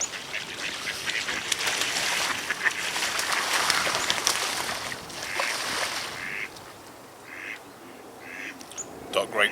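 Ducks quacking and squabbling at a fishing lake, a scattered flurry of calls at moderate distance over outdoor ambience, with a person talking nearby.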